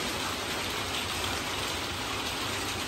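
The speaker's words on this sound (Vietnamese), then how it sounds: "Mưa này rất to các bạn ạ. Bên trên đó là cái mái tôn." Heavy rain pours onto a corrugated metal roof, a dense, steady, loud hiss of drumming drops that fills the whole stretch without pause or talk.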